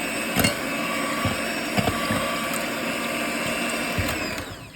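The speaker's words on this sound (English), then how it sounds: "I have my eggs here. I have my beater. I'm going to beat the eggs for a little bit." Eggs beaten for a quiche with a beater, a steady close mechanical whir running throughout, marked by a few faint taps against the bowl.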